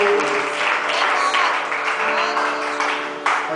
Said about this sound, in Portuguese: levante sua mão e dê uma salva de palmas a essa poderosa palavra de Deus.